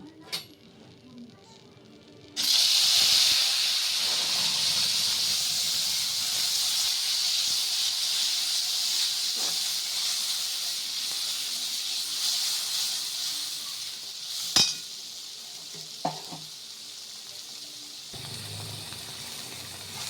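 Whole spices and cardamom paste drop into hot oil and burst into a loud, close hiss and sizzle that holds steadily and slowly fades, with a few light clinks near the end.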